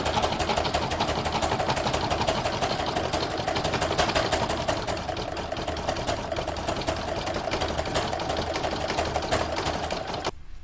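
An embroidery machine stitches a red satin stitch on an in-the-hoop Santa applique, giving a loud, rapid, even mechanical whir that runs steadily before stopping near the end.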